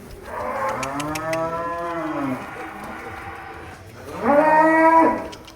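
A white cow in a farm pen, one of the giant PO cattle raised for sacrifice, gives two loud, close moos, the first long and drawn out, the second shorter after a brief pause.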